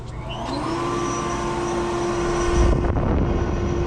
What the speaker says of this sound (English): the airflow coming out of here